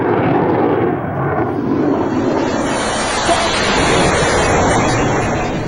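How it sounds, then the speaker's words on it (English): Fighter jets blast off the modified deck of the Indian aircraft carrier Vikramaditya, making a loud, continuous roar mixed with wind buffeting, sustained throughout with no pause. "the first of many jet fighters blasted off the modified deck of Vikramaditya"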